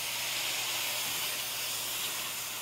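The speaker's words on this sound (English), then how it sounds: "we're going to add a little bit of liquid, touch of water" Water splashed into a hot pan of dry spices for a South Indian avial gives a loud, steady steaming hiss that holds evenly for the whole moment, with no voices.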